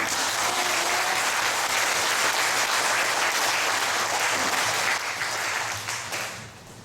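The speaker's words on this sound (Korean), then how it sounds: "한번 크게 박수 한번 쳐볼까요?" A large congregation at a discipleship college graduation ceremony bursts into loud, sustained applause, a thick roar of many hands that holds steady before tapering off near the end.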